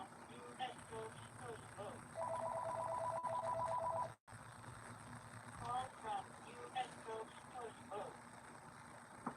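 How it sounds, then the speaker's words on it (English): A telephone rings late at night in a home, with a clear electronic trill lasting about two seconds and then fainter repeated rings, while a person talks over and between the rings. "Oh, there's the phone."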